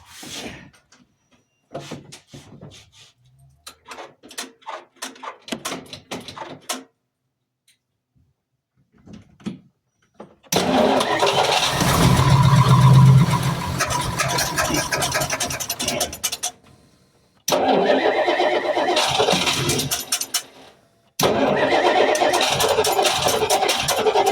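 Car engine cranking to life inside a garage after sitting unused, preceded by quieter rummaging sounds, then a loud sustained rumble at idle that cuts out briefly and restarts twice.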